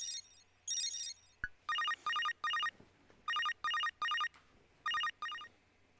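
An electronic phone ringtone in the video game Psycho-Pass: Mandatory Happiness chirps in repeated short bursts, a steady rhythmic trill with brief gaps between rings.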